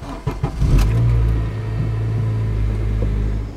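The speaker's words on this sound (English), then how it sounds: "we're gonna start the car and then hold it up to 1500 RPMs" A car engine hums steadily at a raised idle held around 1500 RPM, a low continuous rumble after a brief rise, held at an even pitch throughout.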